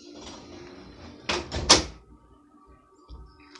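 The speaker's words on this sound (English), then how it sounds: "Shut the door." A door is shut with a couple of close, sharp thuds and a brief rattle, then quiet room noise follows.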